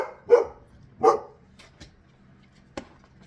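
A dog outdoors gives two distinct barks a moment apart, followed by a couple of softer, shorter yips, somewhat distant and muffled.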